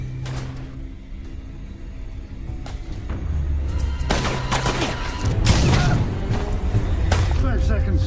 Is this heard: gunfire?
yes